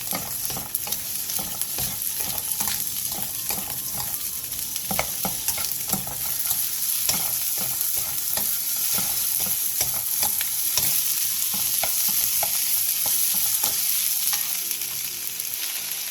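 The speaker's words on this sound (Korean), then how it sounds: "팬에 기름을 두른 뒤 양파를 넣고 센 불에서 양파가 살짝 투명해질 때까지 볶아주세요" Onions stir-frying in oil in a pan over high heat, a steady close sizzle with scraping stir strokes running continuously with no talk.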